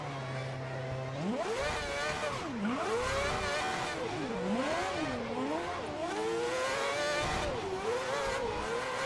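An F1 race car engine in the F1 2010 video game at Bahrain starts from a steady drone, then revs up and down repeatedly in sweeping whines after the car spins, loud and continuous.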